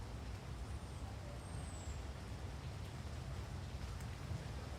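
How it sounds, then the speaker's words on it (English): Rain falls during an outdoor yoga session as a faint, steady broadband hiss with low rumbling underneath, continuous and with no voices. "Oh, it's raining"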